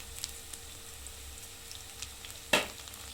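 Onion, coconut and garlic roasting in a pan, a quiet low crackle throughout with one sharp clink near the end.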